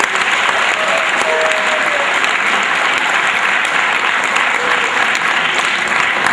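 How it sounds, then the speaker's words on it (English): Sustained applause from a crowd at a state soccer champions' homecoming for the team's assistant coaches, dense even clapping that is loud and close, with a few faint voices underneath. "We give them a round of applause as well"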